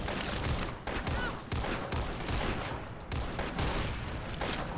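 Rapid gunfire crackles through a Roblox Arsenal match where a Desert Eagle pistol is in play, a dense run of sharp repeated shots, fairly close and steady, with no talking.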